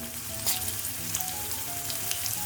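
A dried red chili, cut in two, crackles in hot frying oil for a prawn and drumstick curry, a soft, steady sizzle with scattered small pops, close and fairly quiet, no voices.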